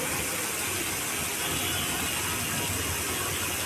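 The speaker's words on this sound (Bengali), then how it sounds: "সাইকেলটা স্ট্যান্ডে দিয়ে ঘোরাচ্ছি, কারণ চালিয়ে ভিডিও করার একটু অসুবিধা আছে" A lithium-ion battery electric bicycle's rear wheel spins freely on a stand, giving a steady, loud mechanical whir with a fast ratcheting hub buzz that holds constant throughout, with no voices.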